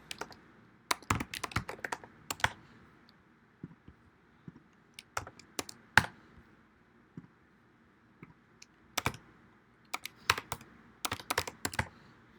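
Soft clicks of a computer keyboard as information is typed into a form, arriving in irregular bursts of rapid keystrokes separated by short pauses, quiet and close with no talking.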